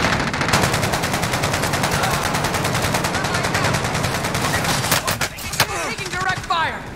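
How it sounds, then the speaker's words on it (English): Sustained rapid automatic gunfire in the video game Warzone, loud and close, continuous for several seconds before breaking into a few scattered shots, with voices in the background. "Taking direct fire."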